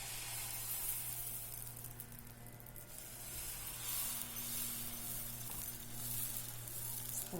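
Pesarattu (moong dal dosa) batter sizzling steadily on a hot pan, a continuous loud frying hiss with a low stove hum underneath, no talking.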